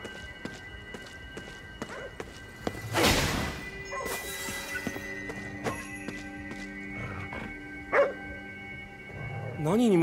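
A dog barking in the video game Ghostwire Tokyo, a few mid-distance barks among layered game sound effects, crashes and steady synthetic tones, with voices speaking in places.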